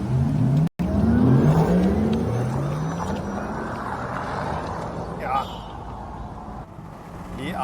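A Porsche Taycan electric car launches hard from a standstill with the window down, giving a rising electric whine that climbs steadily in pitch over loud wind and road rush, heard from inside the cabin.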